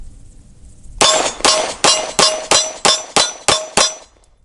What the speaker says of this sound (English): Let's get some initial shots in and see what we think.